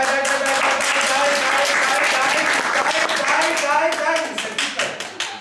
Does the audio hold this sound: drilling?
no